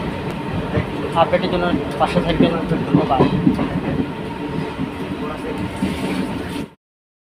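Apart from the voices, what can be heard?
moving train interior, rail clatter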